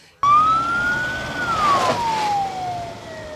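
An ambulance siren in Chwele starts abruptly and wails loudly nearby, its pitch rising slowly and then falling in a long sweep, with no voices over it.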